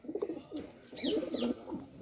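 Soft, throaty pigeon coos repeat close by, a few low rolling calls with faint chirps in the background.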